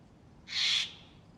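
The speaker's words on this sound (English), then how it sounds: "Okay, loud ass fucking bird." A single loud bird call, owl-like, bursts out briefly in the Dead by Daylight game, a sharp bright cry lasting under half a second against quiet background hiss.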